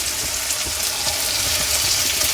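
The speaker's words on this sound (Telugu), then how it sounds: "ఇప్పుడు రైస్ వేసుకుందాం" Rationed rice fries in a pan for jeera rice, giving a loud, continuous sizzle with faint stirring scrapes throughout and no talking.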